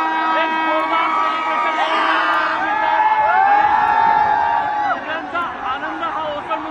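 Indian cricket fans gather in a dense crowd outside the Trident Hotel in Mumbai, cheering, whooping and chanting together, with voices swelling and overlapping close by and talk mixed through the roar.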